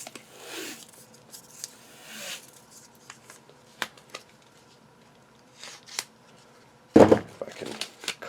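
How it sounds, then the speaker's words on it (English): A length of tough vinyl tape snipped off the roll, a sharp crisp cut standing out near the end among soft rustling and small handling taps, fairly close and alone. "If I can cut off a piece of tape without ruining it."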